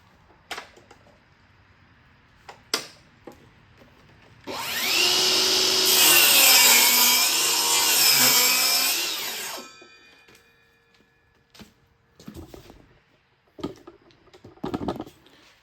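A power saw cuts a piece of wood down to size during repair of rotten wood on a pinball cabinet: one loud, continuous whining cut of about five seconds, framed by scattered knocks and clatter of handling the workpiece.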